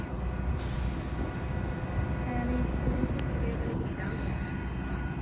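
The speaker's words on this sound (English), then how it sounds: "Yeah, this is one of the trains" An F-59 locomotive train running on a quiet Saturday gives off a steady, loud rumble with constant broadband noise throughout, while people talk over it.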